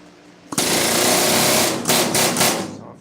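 Loud pneumatic rivet hammering on steel or aluminum rivets on a 7.5 gauge railroad car, a sustained rapid rattling burst that starts abruptly and runs nearly continuously with brief pulses near the end.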